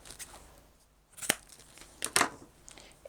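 Scissors snip through bag strap material for a cross body purse, two or three short, crisp cuts with soft rustling between them, close and fairly quiet.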